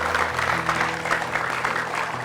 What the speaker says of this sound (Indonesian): Sekali lagi kita kasih tepuk tangan sekali lagi untuk Mbak Yanti.